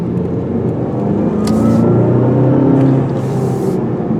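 A 2020 Volkswagen GTI with a six-speed manual gearbox drives along a road, its engine drone and tyre rumble loud and steady from the cabin, swelling slightly midway, with no one speaking.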